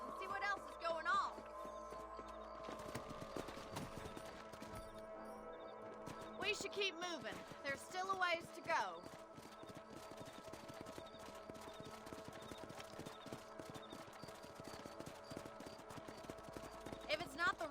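Steady clip-clop of horse hooves as riders travel together in Red Dead Redemption, a continuous rhythmic trot under game music and spoken dialogue, with brief louder bursts partway through.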